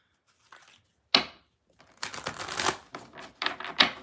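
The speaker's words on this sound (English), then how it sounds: "my shuffling is taking maybe a little bit longer than normal" A deck of tarot cards is shuffled by hand, with sharp riffling bursts and soft slides of card against card coming in quick uneven clusters, close and crisp, without speech.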